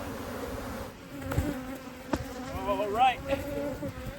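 Honeybees buzz in a steady close drone around a small nuc hive during a split and requeening, with individual bees whining past and a short spoken phrase over them.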